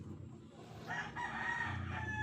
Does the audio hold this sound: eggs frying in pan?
no